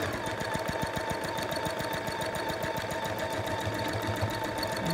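A sewing machine runs steadily with a fast, even stitching chatter, quilting granny square blocks by stitching in the ditch, close and alone without talk.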